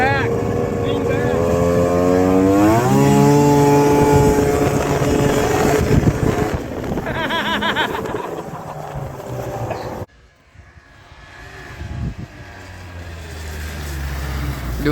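Snowmobile engine revving and climbing in pitch as the sled rides over hard packed snow, loud and close with wind buffeting the microphone, then cutting off abruptly before a lower idle returns; voices talk over it.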